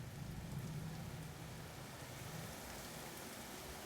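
Heavy rain pours in a steady, dense hiss during a storm with strong wind on a dark highway at night, continuous and fairly faint with no voices.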